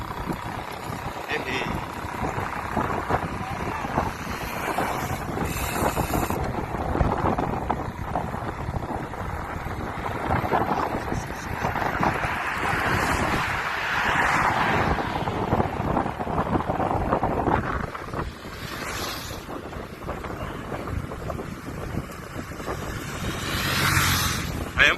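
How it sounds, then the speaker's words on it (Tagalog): Strong wind buffets the microphone in a continuous roaring rush during a ride, with people talking faintly underneath and a low engine-like drone throughout. "Malakas ang hangin."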